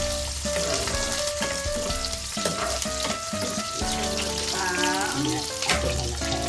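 Garlic and onion sautéing in oil for sinigang na lechon, a continuous sizzle and crackle with stirring clatter, while faint music plays alongside.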